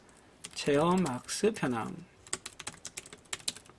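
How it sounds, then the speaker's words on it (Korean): Rapid computer keyboard typing while entering text in an Excel spreadsheet, heard as a run of light, irregular key clicks after a stretch of talk at the start. "그 상태에서 이제 더블 클릭해서 타이핑을 치겠습니다"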